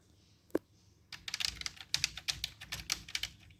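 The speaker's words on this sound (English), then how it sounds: "So here we can see that it is typing all the characters." A computer keyboard is tested by typing, starting with a single key click, then a quick, uneven run of close, crisp keystrokes clattering one after another with no talking.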